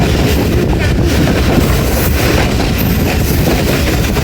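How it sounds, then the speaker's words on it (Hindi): A passenger train, the 14 DN Awam Express, rolls slowly through Sanjwal station on its way to Rawalpindi. A loud, steady rumble and wheel rattle run unbroken throughout. "संजानी से पास हो रही है ट्रेन और 11:45 हो गए।"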